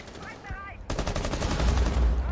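Rapid gunfire bursts in a Ubisoft video game match, a dense loud volley of shots cracking steadily through the second half after a brief quieter moment with a voice at the start.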